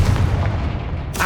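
A Confringo blasting spell cast in Hogwarts Legacy, heard as a loud, booming blast with a dense low rumble lasting about a second, ending in a sharp crackling burst.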